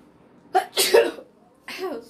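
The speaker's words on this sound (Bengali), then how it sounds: "হাঁচি কাশি গলা ব্যথা সব একসাথে" A woman hosting a live online clothing sale sneezes and coughs in a few short, close bursts, separated by brief pauses, with no other sounds around them.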